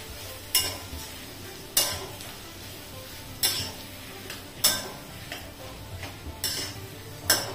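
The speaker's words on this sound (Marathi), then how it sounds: "जेवढं शक्य होईल तेवढं असं मिक्स करायचं आणि बटाटे आहेत ना असे दाबत चालायचे." Samosa potato filling is mixed and pressed by hand in a bowl, giving soft, squelchy, rustling sounds with a sharper press or knock about every second, close and alone without talk.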